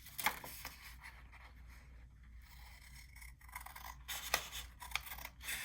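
Scissors slice through 12x12 patterned paper for a junk journal, giving close, quiet rasping snips in short bursts separated by brief pauses.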